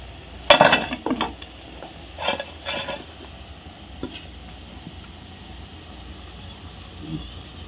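Fried leafy-greens pakoras are lifted out and dropped into a serving dish, making a cluster of close clatters and scrapes early on, a few more mid-clip, then soft residual sizzle and quiet handling.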